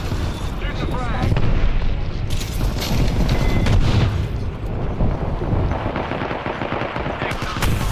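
A frag grenade is shot and bursts in a fast-paced shooter video game, part of a continuous, loud barrage of gunfire and explosions with a voice talking over the chaos.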